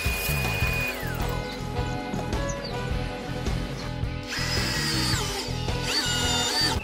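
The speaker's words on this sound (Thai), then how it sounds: "เอาตัวนี้เจาะแค่ลงไปให้หัวโผล่ข้างล่าง" Power drill boring a bench dog hole into a wooden workbench top, loud and close, with the motor whining in steady bursts and the bit chattering and grinding through the wood over several seconds.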